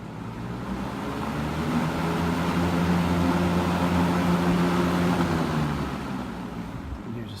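A vintage yellow Sears box fan, just reassembled with its blade not quite seated on the hub, runs on high with a loud, steady broadband whoosh that swells and then eases slightly toward the end.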